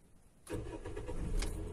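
A car engine cranks and catches about half a second in, then settles into a steady, close idle rumble, heard alone with no talking.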